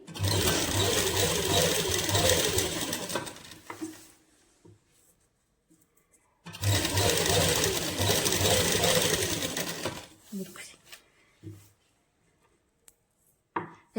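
A sewing machine stitches lace onto a party-wear suit dupatta in two loud, close, steady runs of rapid whirring, each lasting about four seconds, separated by pauses with light handling noises.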